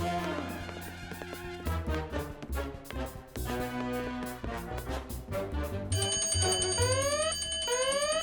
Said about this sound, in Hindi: शायद फायर अलार्म चेक कर रहे होंगे।